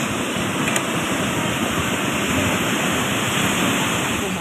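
Loud, steady rushing water roars continuously, a dense broadband torrent of floodwater overflowing from a drainage canal in Baguio City, Philippines, with no voices.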